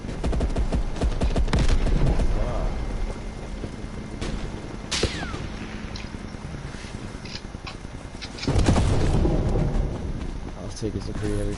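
Scattered gunfire in a Modern Warfare video game sounds as sharp cracks and short bursts, some close and loud, others more distant, under steady conversation between players.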